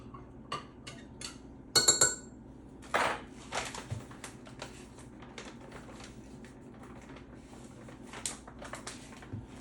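Light clinks and scraping of a utensil stirring agar into water in a container, a few brisk bursts then quieter intermittent taps and swishes.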